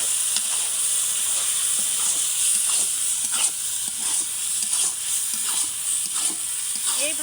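Chengti fish drop into a pan of sautéed chili and onion for a bhuna, producing a loud, continuous hissing sizzle with intermittent stirring scrapes close by.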